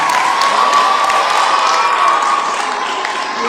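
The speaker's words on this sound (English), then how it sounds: "Please give her another round of applause" An audience applauds a girl's performance at an International Girl Child Day event, dense continuous clapping mixed with crowd cheering and children's shouts, loud and sustained throughout.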